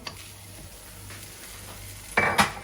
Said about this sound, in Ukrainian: Нагріваємо пательню, закладаємо вершкове масло.